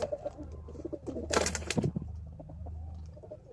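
Pigeons kept in a winter loft, some sick with pox, give low, soft cooing calls close by. The calls repeat over a steady low hum, with a brief louder rustle in the middle.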